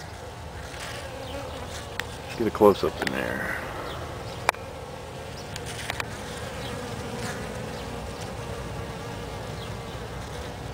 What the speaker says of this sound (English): Lots of hot bee action going on over here.